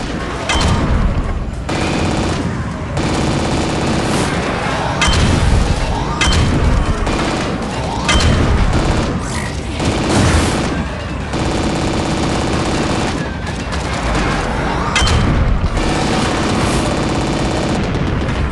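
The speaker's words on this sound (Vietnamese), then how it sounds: "lối chơi bắn súng mới lạ" Heavy gunfire from the Android video game Warhammer 40k Freeblade rattles in dense, loud bursts with booming impacts, continuous and unbroken across the whole stretch.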